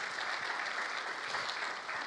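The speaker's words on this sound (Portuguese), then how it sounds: "Dá uma salva de palmas ao Senhor" A church congregation at a Sunday service claps steadily, a dense, even patter of many hands, fairly distant and quiet, with no talking over it.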